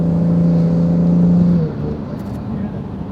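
A 2018 Kia Stinger GT fitted with a K&N cold air intake revs up, a loud close engine roar that holds high and then drops to a lower rumble.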